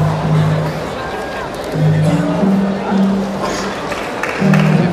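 Crowd noise from spectators at an Asian Games 2018 gold medal tennis match, a steady hubbub with swelling cheers and scattered calls, heard under a commentator's voice throughout.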